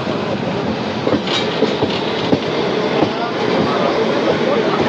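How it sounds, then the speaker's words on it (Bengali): A passenger train rolls through the crossing with the Howrah Shatabdi Express just after leaving Barddhaman, a steady loud rumble with faint wheel clatter throughout while someone talks over it. "আমাদের সাথে ক্রসিং হচ্ছে হাওড়া শতাব্দী এক্সপ্রেসে।"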